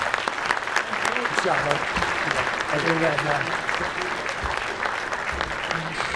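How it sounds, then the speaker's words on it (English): Sustained applause fills a banquet hall during a sports hall of fame induction dinner, a steady crowd clap lasting throughout, with a voice briefly heard over it. "Again, round of applause for these guys."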